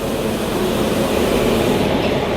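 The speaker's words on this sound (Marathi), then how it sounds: "फायनली आपली आता ट्रेन आलेली आहे, तुम्ही बघू शकता." A train arriving at Chiplun station rumbling steadily nearby, a continuous loud roar of wheels and carriages with no pauses.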